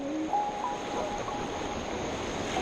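Fast-flowing mountain river water rushes in a steady, dense wash close by, with a few faint whistling tones near the start and no talking.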